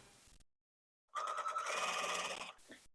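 A sewing machine stitches quilt pieces together for a table runner, running in one short, steady whirring burst of about a second and a half after a brief pause, close and fairly quiet.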